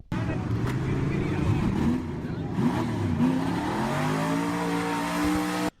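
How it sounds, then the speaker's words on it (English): A dirt track race car engine, recorded by a spectator, revs and rises in pitch repeatedly in sweeping bursts over a continuous rumbling idle, loud and fairly close. "what we're listening to right now is to his engine"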